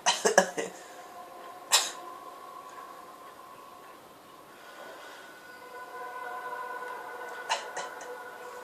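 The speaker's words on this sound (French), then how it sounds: "Il tousse, hein." A man gives a few short, sharp coughs at the start, then another single cough, over a faint hum and murmur of Assassin's Creed Revelations game ambience.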